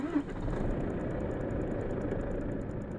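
A Volvo FH16 truck with a 16-litre engine, driven in Euro Truck Simulator 2, idles with a steady deep rumble that holds loud and constant, with no talk over it.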